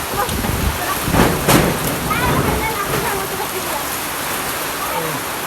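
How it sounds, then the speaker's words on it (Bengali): Heavy storm rain pours down on a house roof in a dense, steady roar, with a brief voice rising over it partway through. "দেখে কিরম জোরে আছে বৃষ্টি আমার ঘরের উপর"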